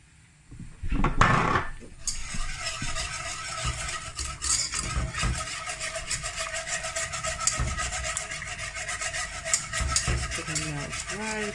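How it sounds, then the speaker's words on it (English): A whisk scrapes and stirs butter around a pan in a home kitchen, making steady rasping, rubbing strokes with occasional metallic clinks, close and continuous, without talk. "Just whisk that in. It's gonna launch right in."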